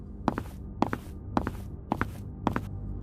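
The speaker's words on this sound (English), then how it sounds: "Soft footsteps" Five soft footsteps at an even, unhurried pace, each a muffled scuff-and-thud, fairly close with quiet gaps between them.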